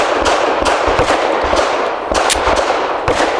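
Shots from an FN 509 Midsize pistol loaded with Hornady Critical Duty 135-grain rounds, heard as loud, close, sharp cracks spaced irregularly over a few seconds, over a dense, noisy outdoor range background.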